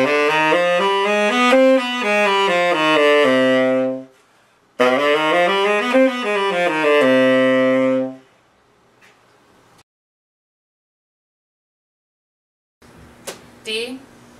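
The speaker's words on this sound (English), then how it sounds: "Play the D harmonic minor scale." A tenor saxophone runs up and down the D harmonic minor scale twice, each pass a smooth stepwise line of sustained notes, loud and close, followed by near silence and a brief faint clatter at the end.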